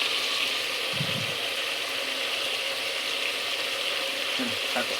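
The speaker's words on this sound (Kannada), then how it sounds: "ಚಿಕನ್ ಹಾಕ್ತಾಯಿದ್ದೀನಿ ನೋಡಿ." Chicken sizzles steadily in a hot pan, a continuous broad hiss of frying with a few brief scraping and clattering stir strokes; no talk.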